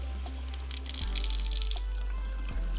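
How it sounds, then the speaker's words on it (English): Water runs steadily from an outdoor spigot during a DIY reverse osmosis system install, with a continuous hiss that grows stronger after the first second over a low hum. "Go back inside and turn the spigot on slowly."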